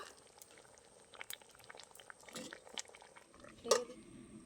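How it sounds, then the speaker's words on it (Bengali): Pot of ingredients with salt and turmeric simmering under a lid, faint bubbling and small pops with occasional light clinks of the pot. "এই সবগুলো ভালো করে সিদ্ধ হওয়ার জন্য আবারও ঢেকে দেবো।"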